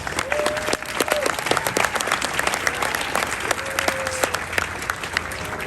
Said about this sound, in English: Ladies and gentlemen, a round of applause for our recruiters and our combat instructors.